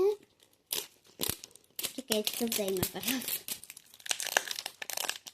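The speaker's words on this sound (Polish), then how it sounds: "ja nienawidzę tych kul rozpakowywać" Christmas baubles come out of crinkly plastic packaging in a series of sharp, close crackles and tearing rustles, interrupted by a girl's short spoken remarks.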